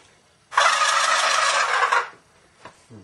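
A loud, rapid gobble call imitating a wild turkey for spring turkey hunting, a single sustained rattling burst lasting over a second, followed by a couple of faint clicks.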